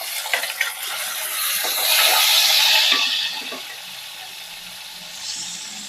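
Tomatoes hit hot oil in a pan for a Nellore-style small fish curry, a hissing sizzle that swells over a couple of seconds and then settles to a softer crackle.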